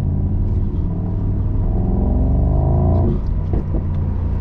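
A Mercedes SL 63 AMG V8 in Sport Plus with the exhaust valve open, a deep loud rumbling drone that rises steadily as it accelerates, then a brief throttle lift with a few pops near the end.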